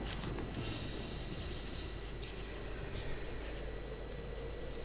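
Steady scratching of a pen across paper as reports are written in the Star Stable horse-riding game, continuous and fairly quiet with soft background ambience and no talking.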